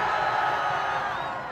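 Many people in their twenties at a rally let out a continuous, dense cheer, a broad wall of shouting voices that holds steady and then eases off slightly toward the end.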